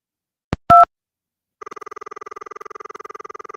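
Telephone keypad dialing tones followed by a steady pulsing ring signal from an in-game phone in the computer game Cosmic Osmo, with a couple of short tones, then a continuous rapid ringing burble.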